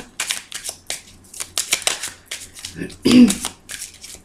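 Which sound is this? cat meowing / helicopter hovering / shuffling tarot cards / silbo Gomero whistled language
shuffling tarot cards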